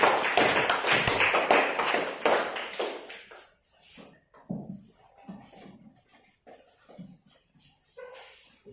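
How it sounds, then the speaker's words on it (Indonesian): Students in a classroom applaud a classmate who read out their group's discussion results. Brisk clapping fills the opening seconds and then breaks up into a few scattered taps and shuffles. "maka kita tepuk tangan, beri aplaus buat teman Anda yang sudah berani membacakan hasil diskusi kalian"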